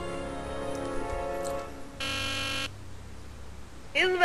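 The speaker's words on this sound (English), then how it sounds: "Let's bust the buzzer." In the Back to the Future video game, a buzzer gives a single flat, harsh electronic burst of about half a second, loud and alone amid quiet game background tones, followed by a brief voice.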